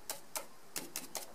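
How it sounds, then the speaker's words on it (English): A brush from an Ekelund drum carder dabs wool down onto the drum, five soft quick taps in uneven rhythm, close and faint against a quiet room. "I can also use the brush that comes with the machine and dab it down"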